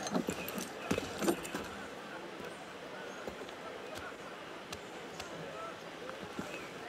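Horse hooves clip-clop in the Assassin's Creed Unity video game, a steady trot of moderate, somewhat distant hoofbeats under a busy crowd babble.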